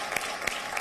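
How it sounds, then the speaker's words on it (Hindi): An audience at a poetry event gives a short, soft patter of applause. It sounds somewhat distant and muffled, with a few sharper claps standing out. "एक बार जोरदार तालियां अंजू जैन।"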